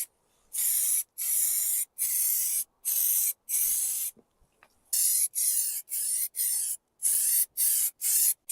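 Primer is sprayed onto an MG TF car body in a rapid series of short, close hissing bursts, each about half a second long and separated by brief silent pauses.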